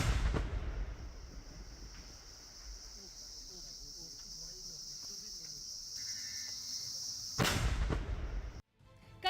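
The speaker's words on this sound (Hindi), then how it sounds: "देखिए ये धमाका कितना खौफनाक है" An IED blast set off in the open, heard as a sharp broadband boom near the start and a bigger roaring explosion near the end, over a steady outdoor chorus of crickets and insects.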